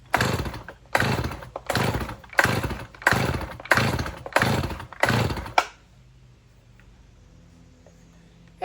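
A Stihl chainsaw engine comparable to an MS-291 revs in seven loud, evenly spaced bursts of roughly half a second each, then cuts off, leaving only faint background hum.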